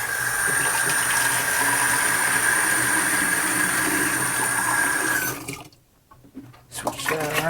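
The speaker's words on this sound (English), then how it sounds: "Rinse your little float off. Rinse this out better if you want." Running water rinses a Bissell carpet shampooer float, a steady rushing splash that cuts out abruptly near the end before brief clattering and handling noises.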